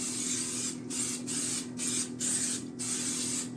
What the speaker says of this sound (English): We are going to put it in a spray pan here, so I'm gonna just spray it.